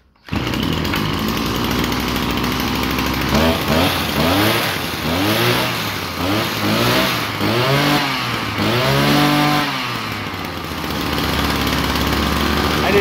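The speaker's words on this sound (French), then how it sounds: "Et là, elle devrait démarrer et accélérer presque convenablement." A small petrol engine, tuned slightly lean at low revs after a carburetor adjustment, fires up and runs loud and steady, then revs up and down in repeated rising surges before settling back to a high idle.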